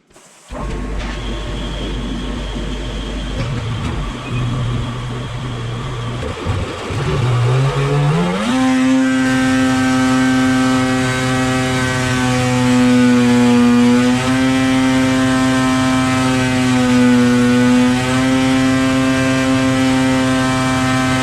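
An 800 E-TEC snowmobile engine fitted with a big mouth muffler runs on a dyno, very loud and close, idling roughly before revving up and holding a steady high-rpm drone with slight pitch wavers.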